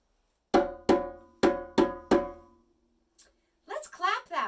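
Five sharp, evenly spaced bongo hits ring out loud and close, each decaying quickly, forming a short drum break; after a pause a faint tap and then a voice follow at the end.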